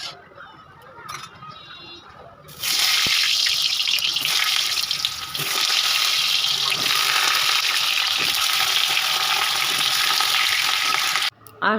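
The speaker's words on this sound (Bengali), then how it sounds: "আমি চিকেনের আলুটা ভেজে নিচ্ছি, সামান্য একটু নুন দিয়ে ওটাকে ভেজে তুলে নেব" Potatoes frying in oil in a pan for a chicken dish, a quiet start that bursts into a loud, steady, close sizzle which holds with a brief dip before cutting off at the end.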